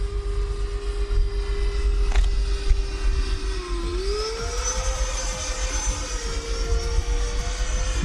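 An electric-powered RC airplane flies overhead at full throttle, its steady motor whine holding a constant pitch that dips and then rises again as the plane maneuvers, loud and continuous over outdoor background noise.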